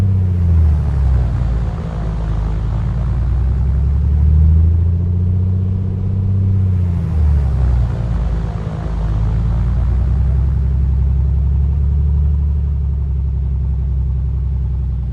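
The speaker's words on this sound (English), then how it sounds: "Engine run up correct, temperatures have all come up." A Piper Comanche 250 engine runs up in the A2A flight simulator, a loud, steady propeller drone whose pitch dips and recovers twice as the propeller pitch is cycled, with no speech.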